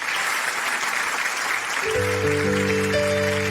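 Sustained audience applause for a musician at a Neapolitan music show, a dense, even wash of clapping that continues as sustained musical tones enter and ring over it during the second half.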